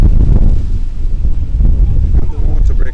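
Strong, gusty wind buffets the microphone at an outdoor schoolgirls' football cup semifinal, a continuous low rumble that swells and dips throughout, with a faint voice underneath.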